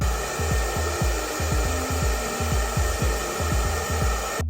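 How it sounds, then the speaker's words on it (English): A hair dryer on its cool setting blows in a steady, airy whir with a faint repeating low thump underneath, running continuously. "So I'm going to blow dry on cool."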